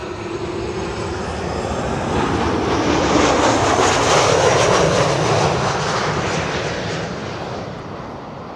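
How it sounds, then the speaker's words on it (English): A KLM Boeing 737-700 arriving at Schiphol swells into a loud, broad engine roar as it passes near, then slowly fades, with no talk. "This is KLM flight 1772, arriving from Berlin, 737-700."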